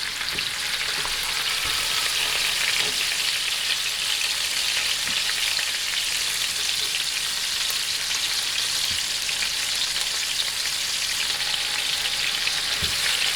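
Oxtail browning in a pot for a Jamaican stew: a continuous, dense sizzle at close range, with a few faint knocks from a utensil scattered through it.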